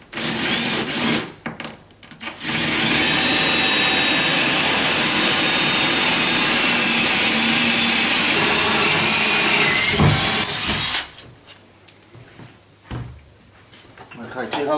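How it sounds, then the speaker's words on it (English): A power drill whirs loudly and continuously for several seconds, with short bursts before and a quieter pause after, close to the listener. "Ideally you want to drill on the angle."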